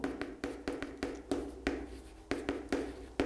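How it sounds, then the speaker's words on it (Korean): Chalk or marker writing on a board in a classroom lecture: a quick series of short scratching strokes in a steady rhythm, close and clear, with no talking. "요쪽에다가 이렇게 좀 잠깐 제가 써볼게요."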